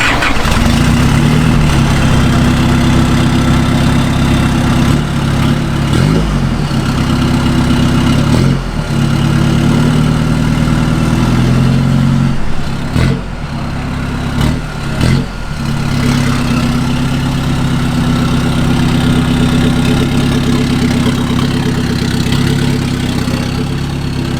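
A modified truck's large engine starts and rumbles loudly and steadily, idling with a deep throaty drone and a few brief revs, very close throughout with no talking.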